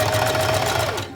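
A sewing machine runs steadily, stitching a zigzag along the edge of a newborn onesie with a steady, dense mechanical whir and a faint pitch that slides slightly near the end before it stops.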